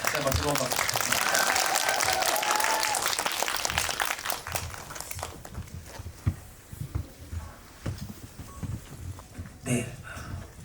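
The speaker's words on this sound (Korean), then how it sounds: "다시 한번 뜨거운 박수 부탁드립니다" Audience applause welcoming the actor Lee Je-hoon onto the stage at a film talk event after a Whiplash screening, loud and sustained for about five seconds before it thins into scattered claps and a voice.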